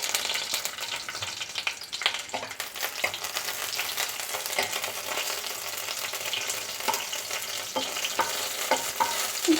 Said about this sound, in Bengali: একটু ভাজা হতে দেবো এটা